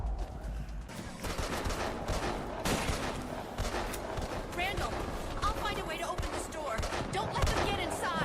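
Rapid gunfire from the video game Deadlight, with bursts and single shots crackling throughout under steady game music and effects while a person talks over the action.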